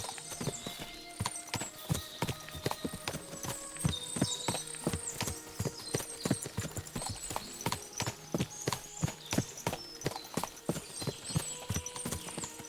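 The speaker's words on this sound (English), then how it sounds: "What a lot of horses!" Several horses clop along in Kingdom Come: Deliverance II, a dense, irregular patter of hoofbeats at moderate distance with occasional faint snorts and whinnies over soft ambient game sound.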